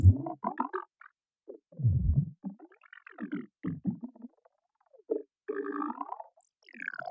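An Arturia MiniFreak synth runs through its vocoder effect on a narrow setting, giving choppy, gurgling formant bursts that stutter on and off with gaps of silence, fairly quiet and thin.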